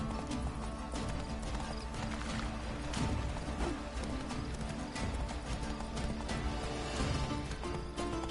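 Roach, the horse from The Witcher 3: Wild Hunt, gallops in a steady rapid clip-clop of hooves that runs the whole time, loud and close, over a dense game soundscape.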